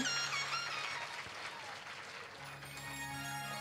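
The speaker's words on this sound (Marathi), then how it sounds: "एकदा आपण मंडळी आपल्यासाठी जोरदार टाळ्या वाजवा सगळ्यांनी." An audience at a Marathi Shiv Mahapuran katha, celebrating Shiva's wedding after a dance, claps in a steady, fairly soft wash of applause that runs through the whole moment.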